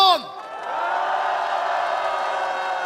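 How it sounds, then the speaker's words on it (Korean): Applause and cheering swell from a large crowd at an outdoor political rally in Korea demanding President Yoon Suk-yeol's removal, building after a brief shouted voice and holding as a steady, dense roar of clapping and whoops. "우리 스스로의 자신의 박수를 한번 보냅시다, 여러분"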